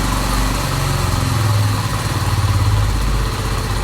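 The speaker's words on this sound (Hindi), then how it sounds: "इस पॉइंट पर मुझे सबसे ज्यादा फील हो रहा है कि मेरी बाइक ज्यादा आरपीएम पे है" A motorcycle engine runs steadily and loudly up close, a continuous throbbing drone with no speech over it.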